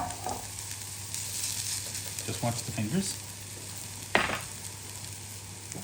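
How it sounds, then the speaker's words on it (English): Rosti sizzles steadily in a hot frying pan, a loud crackling hiss with a few scraping stirs, and a brief voice speaks over it. "Can you hear that sizzle?"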